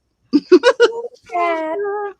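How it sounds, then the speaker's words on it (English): A cat meows nearby, a string of short chirping meows followed by one longer drawn-out meow, loud and close. "That's a nice cat right there."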